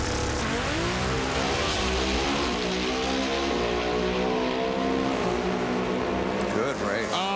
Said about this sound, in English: Pro Stock Motorcycle Champion Ellie Tonglet and Andrew Hines.